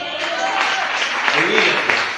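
A church congregation claps for the King during a sermon, a dense, steady patter of many hands with voices mixed in.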